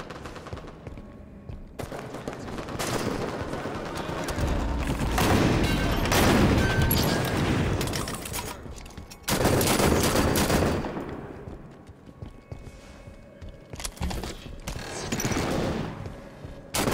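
Gunfire in Halo 5 multiplayer on Xbox One: bursts of automatic fire and repeated shots come in loud waves, with brief quieter gaps between the volleys.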